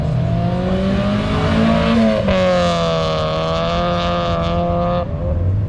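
A Mazda Miata drives at Bristol Motor Speedway, its engine giving a loud, continuous drone that shifts in pitch as it revs, heard steadily throughout from close by.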